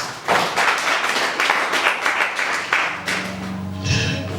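A church congregation breaks into sustained, dense applause that carries on steadily for several seconds before it thins out toward the end, and a few voices rise faintly beneath it.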